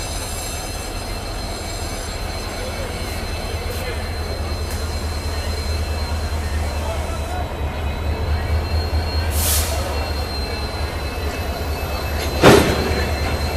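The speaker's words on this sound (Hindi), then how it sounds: "ये लो भाई साहब, जोरदार कपलिंग हो गई यहाँ सक्सेसफुल अपनी WDG4 लोकोमोटिव की" A WDG4 diesel locomotive couples onto an Indian Railways train, its engine droning steadily and loudly throughout, with a sharp metallic clank near the end.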